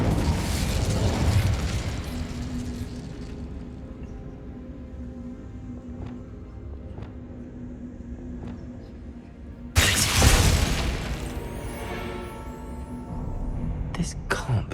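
An Incendio fire spell going off in a wizard video game: a roaring burst of flame that decays into a quiet hum, followed by a sharp, loud eruption of fire and a crackling tail.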